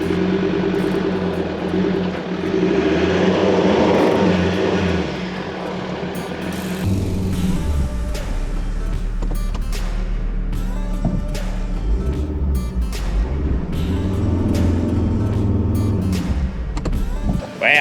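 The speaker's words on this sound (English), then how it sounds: "Going to give him a little snatch out and hopefully just pop him straight out of this soft stuff" A 4x4 snatch-recovers a bogged vehicle from soft beach sand, its engine droning loud and close for the whole stretch, with revs rising and falling and a rougher, deeper strain kicking in partway through.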